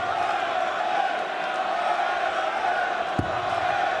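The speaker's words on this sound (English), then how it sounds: "The crowd, if he can hear them, the far side of his earplugs, the crowd are trying to lift him." Darts crowd at a 2017 Champions League of Darts semi-final roaring steadily throughout, a dense continuous wall of cheering and shouting from a packed arena, with one brief thud near the end.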